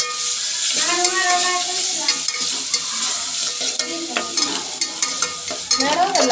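Chilies and garlic masala sauté in oil for thecha chicken, a close, loud hiss with rhythmic scraping of a spatula, accompanied by brief musical tones and faint background voices.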